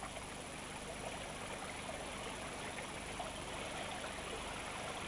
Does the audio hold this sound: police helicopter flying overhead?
no